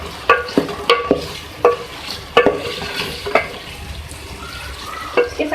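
Whole spices (cloves, black and green cardamom, cinnamon) sizzle in hot oil while a spoon scrapes and knocks the pan in a run of sharp, uneven stirring strokes over a steady frying hiss.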